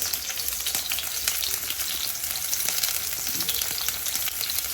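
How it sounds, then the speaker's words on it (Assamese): Onions fry in hot oil as they brown, a busy close crackle and hiss with popping spatters that runs on without a break. "এতিয়া মোৰ পিঁয়াজ ৰঙচুৱা হ'বলৈ দিছোঁ"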